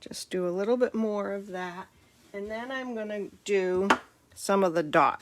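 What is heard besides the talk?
No distinct noise like a dog, phone or traffic.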